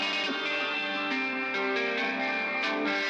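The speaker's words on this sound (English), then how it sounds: "It's like an electric guitar, and I laid down this MIDI and it sounds like this." An electric guitar synth preset called Chorus Twang plays a sustained, dark and ambient MIDI melody with chorus, echo and light distortion, steady and fairly loud with no talking.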